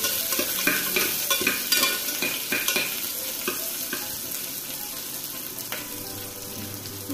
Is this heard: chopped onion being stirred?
yes